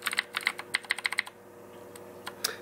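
Keys on a Rosewill mechanical gaming keyboard are typed in a quick run of crisp clicks, about a dozen sharp strokes close up, then a short pause and a couple more presses.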